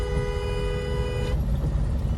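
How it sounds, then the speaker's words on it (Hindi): Vehicle horn blowing steadily near a road crossing in rainy conditions, a sustained tonal honk for just over a second that cuts off abruptly, leaving engine and traffic rumble. "हॉर्न पे हाथ रखने का मतलब था हॉर्न को बजाना है।"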